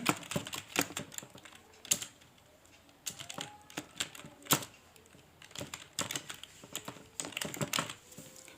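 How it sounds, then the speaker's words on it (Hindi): Keys clatter on a computer keyboard as text is typed into a Microsoft Word 2016 document, quick clustered clicks in bursts separated by short pauses, close and fairly crisp with no talk. "मैंने यहाँ पे टाइप कर लिया।"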